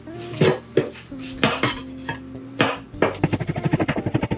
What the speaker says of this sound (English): the green part, I'm gonna slice it